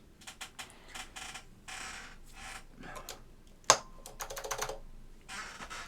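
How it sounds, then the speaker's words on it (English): Keycaps are pressed onto a Northgate OmniKey 102 mechanical keyboard with Alps SKCM Blue switches, making scattered plastic clicks and taps in short clusters, with one sharp louder snap near the middle. "So let's start putting on keycaps and we'll start going from there."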